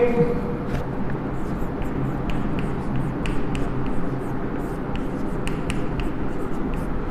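A pen writing a table on paper for a maths lesson, faint scratchy strokes in short irregular bursts, heard close under a teacher's ongoing talk.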